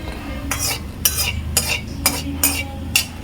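Spices sizzling in hot oil in a pan while a spoon stirs them, giving about six sharp, evenly spaced scraping strokes over a steady low fry, up close with no talking.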